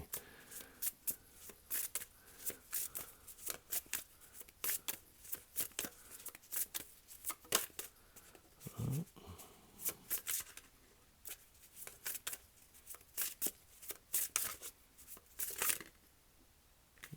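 Tarot cards are shuffled close up in quick, repeated riffling bursts with soft papery slaps, steady and fairly quiet, with no speech.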